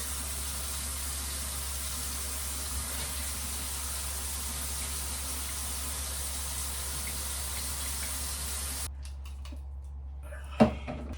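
Water runs steadily from a faucet onto hair, a faint, even hiss lasting several seconds before it cuts off, followed by a single sharp knock.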